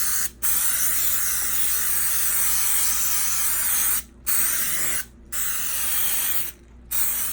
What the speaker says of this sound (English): I'm gonna use my baking spray.